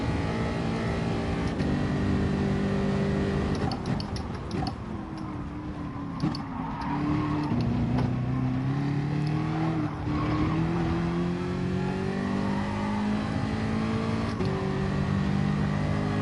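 Race car engines roar and rev through corners in Gran Turismo Sport, with shifting pitch sweeps and tyre squeal as a fast car pulls away, loud and continuous throughout.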